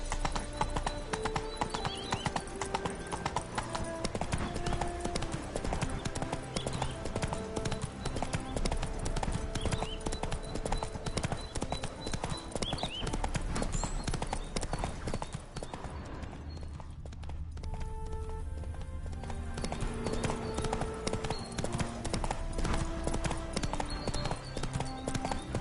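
Roach, the horse in The Witcher 3: Hearts of Stone, gallops at a steady, driving rhythm of hoofbeats under game music, with a short quieter lull partway through.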